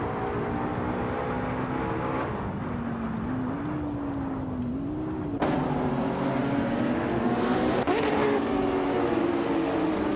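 Racing video game engines: a Lamborghini CNF KP37 hybrid supercar and rival cars hold a steady, tonal drone, with the pitch wavering as they shift and jumping with a few sharp gear changes over ten seconds of continuous sound.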